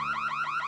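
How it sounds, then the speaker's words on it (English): Alarm going off in the Lego Marvel Super Heroes 2 video game: a steady electronic wail, rising and falling in quick repeated sweeps, loud and continuous with no voices. "Who set that alarm off?"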